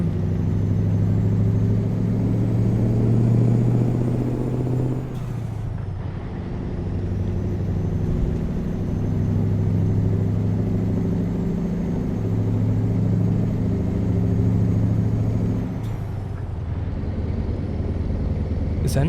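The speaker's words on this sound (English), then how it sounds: "This engine sounds really good when you hit the high RPMs" The heavy engine of a Mack Superliner truck in American Truck Simulator drones loudly and steadily, dipping briefly twice as gears shift before the rumble builds back up.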